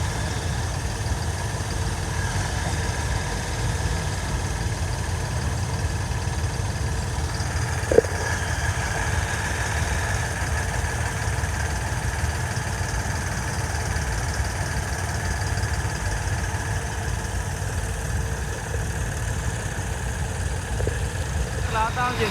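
A JCB excavator and tractors run steadily at a village soil-work site, a continuous low engine drone with one brief clank partway through.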